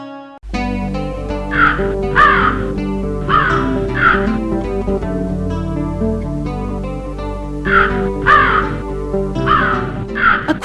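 Crow caws ring out in repeated bursts of harsh calls, clustered in pairs and triplets across the span, loud and close over a steady musical backdrop with no talking.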